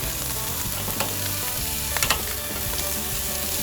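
80/20 beef burgers searing over a charcoal grill give a steady, close sizzle and crackle, with a few sharper pops and spits from flare-ups partway through.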